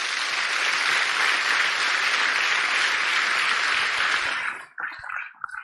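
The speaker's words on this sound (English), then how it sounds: "give a round of applause for the Piscataway and the Haudenosaunee" Dense, steady applause from a gathered audience at a Native community event honoring the Piscataway and Haudenosaunee, sustained for several seconds before cutting off abruptly, followed by faint scattered sounds.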